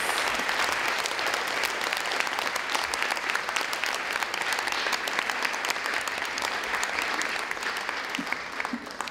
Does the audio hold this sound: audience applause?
yes